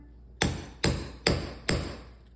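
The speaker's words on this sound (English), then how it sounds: "And then just give it a few good bonks with your hammer." A hammer strikes a rivet setter resting on an anvil four times at an even pace, each blow a sharp metallic knock that rings briefly, recorded close with no speech.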